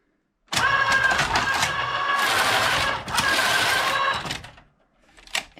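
A Passap E6000 knitting machine's motor runs loud and close in two long whirring passes, with a short pause between them and a quieter rattle as it winds down.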